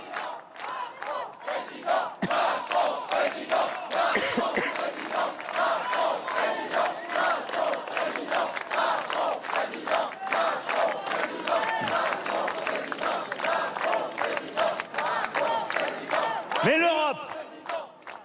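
A large outdoor crowd in Strasbourg shouts and roars loudly and continuously during an Emmanuel Macron speech, with chanting voices swelling and dipping and a sharp whistle-like cry near the end.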